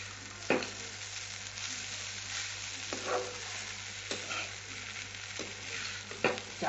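Rice frying in a pan with cashews, raisins, sugar and salt, a soft steady sizzle broken by several sharp scrapes of stirring, heard alone without talk.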